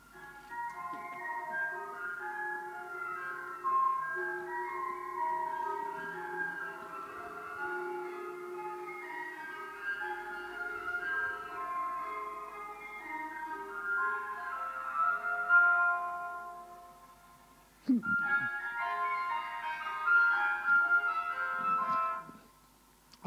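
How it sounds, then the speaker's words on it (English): A tinny ice cream truck jingle plays its familiar melody steadily at moderate volume, breaking off briefly near the end before resuming. "That's an ice cream truck playing a little tinny old tune that everybody's heard 100 times"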